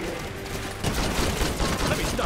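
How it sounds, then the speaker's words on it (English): A sentry gun firing during a frantic video game fight, dense continuous gunfire and crackling blasts filling the whole short stretch, loud and steady, growing heavier partway through. "This sentry gun is really helping out."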